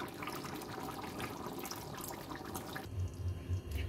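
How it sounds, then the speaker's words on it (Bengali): Water is poured into chicken curry cooking in a pan, making a soft continuous splashing and pouring wash that shifts to low bubbling, close and fairly quiet. "এবার অল্প জল দেবো এখানে।"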